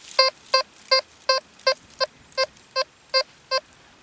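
A Detech EDS Reacher metal detector in hypersensitive mode gives ten short, evenly spaced electronic beeps, each a crisp chirp over a faint hiss, sounding alone with no voices.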